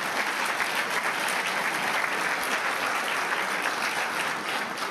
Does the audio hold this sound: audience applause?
yes